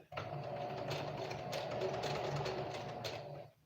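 A sewing machine zigzag-stitches an elastic band for pants, giving a steady, fast mechanical whir with rhythmic needle clatter for a few seconds before stopping, heard up close.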